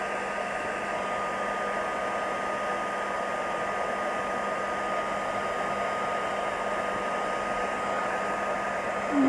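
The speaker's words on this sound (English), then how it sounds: "The heat gun is super hot now, so it's going to resist really fastly." Heat gun blowing hot air while embossing stamped work, a steady close whooshing drone with a faint whine, held continuously throughout.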